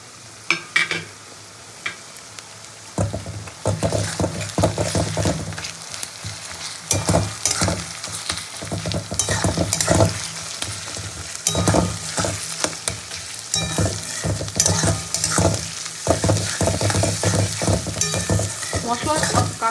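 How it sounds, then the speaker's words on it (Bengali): Browned onion frying with ginger and garlic paste sizzles steadily and close, broken by frequent spatula scrapes and clanks against the pan as the mixture is stirred, after a quieter opening few seconds. "পেঁয়াজটা হালকা ব্রাউন করে ভাজা হয়ে গেছে, এবার আমি আদা বাটা রসুন বাটাটা দিয়ে দেবো একসাথে।"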